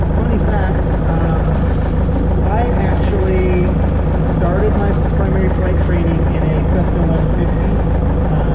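A steady, droning small-airplane engine hums in the distance as aircraft land at an airfield, beneath continuous conversation with no clear pause in the talking.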